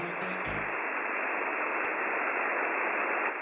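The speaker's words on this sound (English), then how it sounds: "Some of these codes reference an actual radio frequency in Massachusetts," A radio frequency broadcast from Massachusetts comes through as loud, steady hissing static, narrow and muffled in tone, after a brief tonal blip at the start.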